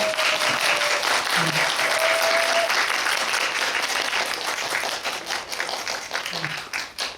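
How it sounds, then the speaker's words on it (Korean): A roomful of people applauding at a documentary screening talk, steady clapping that gradually thins and fades, with a few faint voices underneath. "박수로 환영해주세요."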